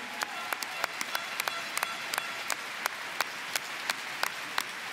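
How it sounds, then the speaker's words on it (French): Applause from the audience at a table tennis championship event in Paris, steady soft crowd clapping with distinct sharper individual claps punctuating it at a fairly even rhythm, heard at a moderate distance. "On voudrait les applaudir très très fort."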